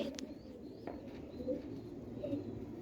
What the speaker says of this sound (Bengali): এটা একটা বেজি মাদি কবুতর